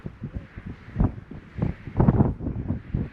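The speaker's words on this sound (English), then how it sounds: "Windy, windy." Gusty wind in the Peak District thumps and buffets the microphone in irregular bursts, a close, muffled low rumble rising and falling.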